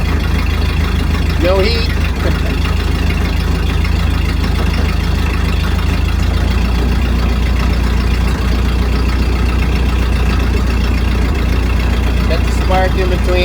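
A 1931 Ford Model A pickup engine idles steadily and close by with a low, even rumble, while a voice speaks briefly over it.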